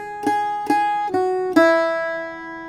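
Irish bouzouki picking the first measure of line 4 of a tune's A section: four bright plucked notes in an even rhythm, the last one left ringing and slowly decaying, close and clear with no talking.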